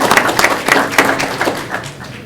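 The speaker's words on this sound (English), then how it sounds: "give her a round of applause" Audience applause at a December 2019 regular meeting honoring a high school senior of the month: a close, loud burst of clapping from a small crowd, uneven and tapering off within a couple of seconds.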